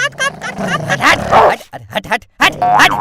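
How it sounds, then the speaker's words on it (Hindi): A dog barks and yips sharply in short bursts at close range in a comic domestic scene, its loud cries mixing with excited shouting voices. "कुत्ते को बाहर ले जा।"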